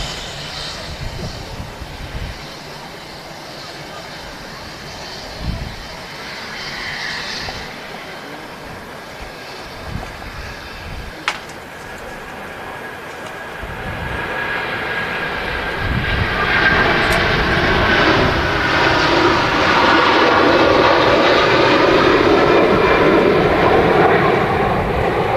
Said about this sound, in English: And off goes our first heavy of the day, Virgin Atlantic A330.